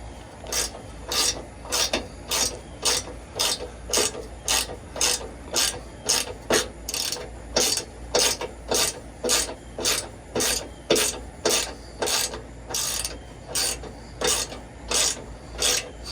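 Ratchet tightening a suspension bolt on a Toyota Sequoia or Tundra, steady repeated clicking pawl strokes at an even back-and-forth rhythm, about two per second, close and clear with no talking.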